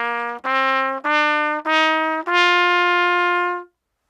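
Close, solo trumpet playing a rising scale of five tongued notes, each starting with a crisp clean attack, short gaps between them, and the top note held longest before stopping.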